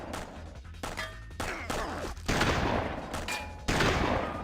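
Gunfire in the GameCube game Mission Impossible Operation Surma, a string of sharp shots and bursts at close range over busy game noise, with no talk.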